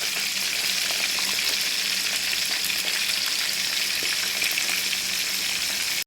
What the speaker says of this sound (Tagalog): Ipiprito na natin yung isda.